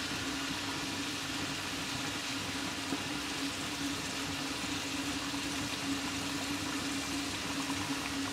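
A pot of heavily salted water boils for rice on the stove, giving a steady, continuous bubbling hiss with a low hum underneath, constant in level throughout and with no talking.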